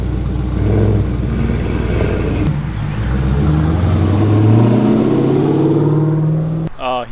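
A lowered Dodge Challenger drives and returns, a loud engine rumble that rises and shifts pitch as it accelerates nearby, ending in a brief clatter.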